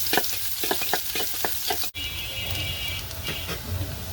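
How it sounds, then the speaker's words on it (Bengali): Onions stirred as they fry in hot oil in a pot: steady loud sizzling with scraping spoon strokes, a brief break, then continuous crackling frying. "এখন আমি নেড়ে চেড়ে দিচ্ছি।"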